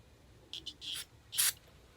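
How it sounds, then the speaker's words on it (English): Carburetor cleaner sprayed from an aerosol can into the tip of a vintage magneto, a few short hissing bursts followed by a longer spray, close and fairly quiet. "Take you some carburetor cleaner and spray it into the"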